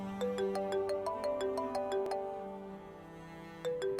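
A phone ringtone plays a repeating bright electronic melody of ringing tones, loud and clear indoors, stopping briefly before starting again near the end, with no talk over it.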